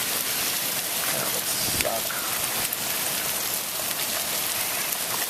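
Heavy rain pours steadily onto outdoor surfaces and a polished car, a dense, constant hiss throughout, with a brief spoken word near the start.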